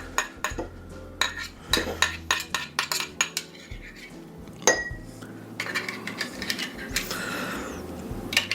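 A metal spoon is picked up and handled, giving a run of sharp, close clinks and taps against dishes, spaced irregularly, with a clatter of cutlery and scraping toward the end.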